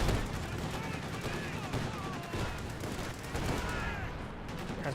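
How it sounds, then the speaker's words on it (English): Incendiary mortar barrage in the World War II strategy game Company of Heroes 2, a dense, continuous roar of explosions and small-arms fire with a commentator talking over it. "Another incendiary mortar barrage."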